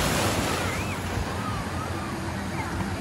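Waves washing onto a river beach in the jungle at Vale das Cachoeiras, Rondônia, a steady close wash of water with wind noise over the microphone and no break in the sound.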